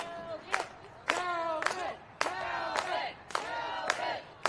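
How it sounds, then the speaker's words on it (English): A wrestling crowd at Penn Brewery cheers and yells in repeated loud surges, with whoops and shouts rising and falling in bursts over a noisy arena. "Audience here at Penn beginning to fill in and cheer for the runway."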